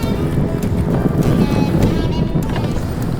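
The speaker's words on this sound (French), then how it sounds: "On a quand même beaucoup de vent aujourd'hui." Strong wind blows steadily across the microphone outdoors on a lake, a loud continuous rushing roar that stays even throughout.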